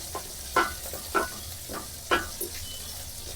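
Green chillies frying in hot oil in a pan while a majjige huli is cooked, a steady soft sizzle broken by a few brief stirring scrapes at regular intervals, close and without talk.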